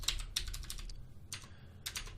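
Quick bursts of typing on a computer keyboard while writing Java code, clusters of crisp key clicks separated by short pauses, close and fairly quiet.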